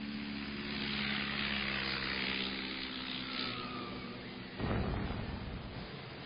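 Propeller bomber of the 1930s era droning overhead, a steady low multi-engine hum with a sudden heavier burst near the end, heard alone without talk.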